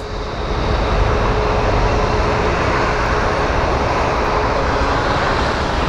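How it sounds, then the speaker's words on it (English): A Boeing 737 MAX airliner at Phoenix Sky Harbor International Airport roars with steady, loud jet engine noise, a broad continuous rush that holds evenly throughout with no speech. "It is claiming that the aircraft over there is a 737 MAX."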